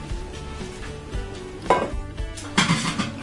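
A metal pot clanks and scrapes as it is handled while making dried-pea fishing bait, with a couple of sharper knocks against a hard surface, close by and fairly quiet.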